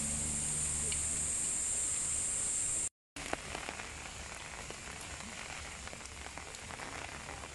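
Steady rain patters outdoors on the way up to a glass bridge on a hillside temple grounds, a dense even hiss with scattered drop taps, briefly cut by a short gap of silence.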